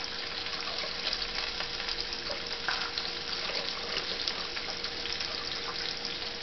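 Water poured into a sizzling pot of jambalaya, a steady gushing, hissing stream that runs without a break at moderate level.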